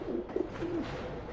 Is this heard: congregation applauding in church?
no